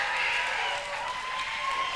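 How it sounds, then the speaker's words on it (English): A crowd at an MMA fight event claps and cheers for the winner, a dense, distant wash of applause held steady throughout. "give a round of applause for your winner"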